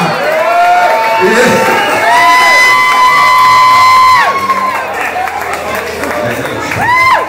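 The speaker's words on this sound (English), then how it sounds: "Clap it one good time." A close crowd cheers, whoops and claps after a marriage proposal. Loud, excited shouts and hollers ring out continuously and peak again near the end.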